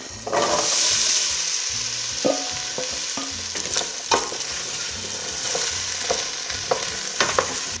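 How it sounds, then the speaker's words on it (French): Potatoes fry in hot oil for a Réunion Creole zembrocal, a loud crackling sizzle with repeated spatula scrapes and knocks against the pan, no one speaking. "On fait revenir les pommes de terre jusqu'à ce qu'il devienne un peu doré"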